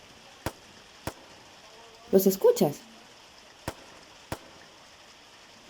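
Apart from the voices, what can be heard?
distant fireworks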